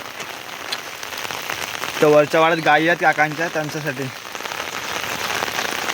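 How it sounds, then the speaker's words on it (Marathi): Steady drizzling rain falls over a rural Konkan homestead with a cattle shed, a constant soft patter throughout while someone speaks clearly for a couple of seconds in the middle. "हा पण पाऊस का थांबत नाही अजून रिमझिम रिमझिम चालूच आहे"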